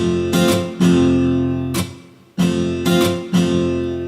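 Strummed chords from an Ample Guitar M II Lite acoustic guitar plugin, a few loud rhythmic strokes with short gaps and one held chord ringing out and decaying, played alone without talk.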